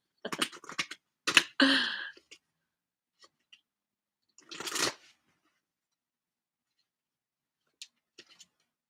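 Abundance angel oracle cards being shuffled by hand, a quick run of soft riffling bursts early on, then a second short flurry a few seconds later, with near silence between.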